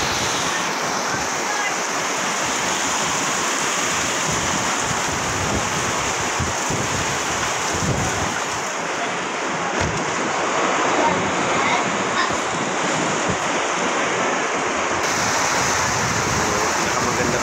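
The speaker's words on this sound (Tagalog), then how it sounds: "Sabay na yung ulan sa hangin." Steady roar of heavy typhoon rain driven by strong wind gusts, loud and continuous, with a faint voice buried in the noise.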